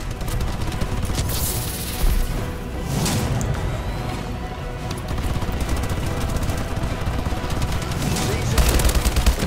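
Dense, rapid automatic weapon fire from the Call of Duty Advanced Warfare Ascendance DLC rattles almost without pause, with a few louder bursts and impacts mixed into the continuous gunfire.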